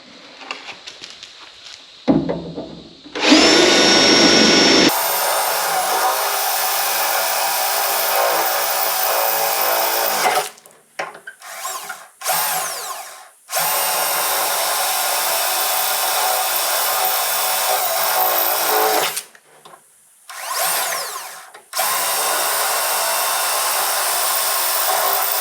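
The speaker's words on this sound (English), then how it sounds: "Now these I don't care if I drill through because this section is going to be replaced" A power drill bores through the sheet metal of a Firebird's torque box and rocker area, screaming loudly in long bursts with short pauses between them.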